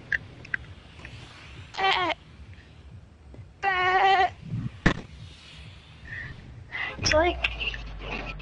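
A person's voice mimics a goat or sheep bleat in several short, wavering bursts, separated by pauses and broken by a sharp click and some low noise.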